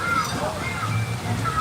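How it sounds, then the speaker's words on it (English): Water sloshes and splashes steadily at a water playground at a Legoland park, as a continuous wash of outdoor sound with no clear voices. "Yeah, they got a water playground."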